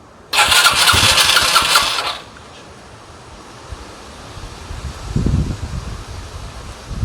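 A Sinnis SC125 motorcycle with a dry carburettor cranks loudly on the starter for about two seconds, falls quiet without catching, then a low engine rumble rises unsteadily near the end.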